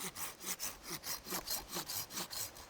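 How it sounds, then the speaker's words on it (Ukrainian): A Tolsen garden hand saw cuts through a raw pear branch about 5 cm thick, giving steady, evenly paced rasping strokes, roughly eight back-and-forth passes, close and fairly loud, with a sharp click at the very end and no talking. "це сира грушка сантиметрів 5 десь е, в тому стовбурі. Дивіться, як вона ріже."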